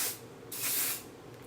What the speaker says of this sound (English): I'm going to take my hairspray again and spray it.